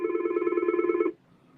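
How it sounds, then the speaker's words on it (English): A telephone rings loud and close for about a second, a steady warbling electronic trill with a rapid pulsing buzz that cuts off abruptly into near silence, with no speech. "Better answer that phone."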